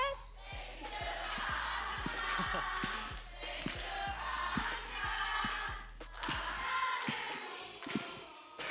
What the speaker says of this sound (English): The crowd was singing happy birthday to BDD